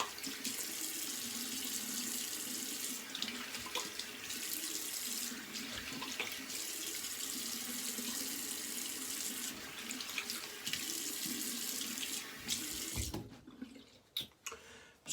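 Water runs steadily from a tap into a sink for a cold rinse after shaving, a close, continuous splashing rush that tapers off at the end.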